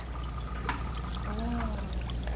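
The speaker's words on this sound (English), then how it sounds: "You pour it right through here." Homemade nut milk pours steadily through a cloth nut filter sack, a continuous soft trickle and splash heard close up under a low background hum.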